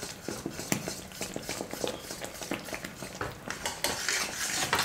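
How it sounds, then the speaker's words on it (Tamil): Mysore pak mixture being stirred with oil in a pan, a rapid run of close spoon scrapes and clinks against the metal with a light sizzle underneath, no talking. "அது வரைக்கும் நல்லா கலந்து கொடுத்துக்கலாம்."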